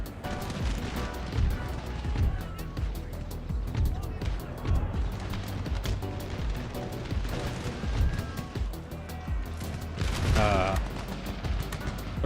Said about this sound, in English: They have been shooting.